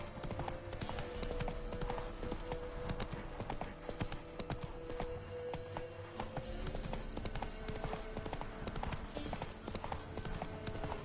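Horse hooves clip-clopping steadily in The Witcher 3 game, a brisk continuous rhythm with music-like tones underneath and no talking.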